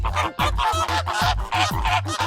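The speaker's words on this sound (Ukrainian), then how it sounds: "Фламінго. Високі рожеві птахи з довгими ногами і витягнутими шиями." Flamingos calling in a loud, goose-like flock chorus of repeated nasal honks overlapping in quick rhythm, close by and without any speech.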